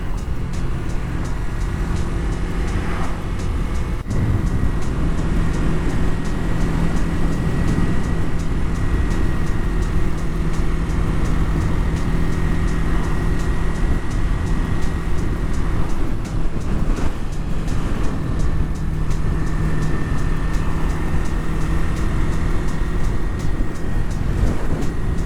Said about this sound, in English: you can definitely feel the wind now that we're closer to the water